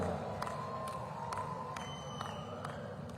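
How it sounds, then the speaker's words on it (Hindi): Audience applause at the Khel Mahakumbh 2025 sports festival opening ceremony in Panchkula, a dense, steady wash of clapping from a large crowd that holds at an even level throughout. "जोरदार तालियां बजाकर आप आभार व्यक्त करें"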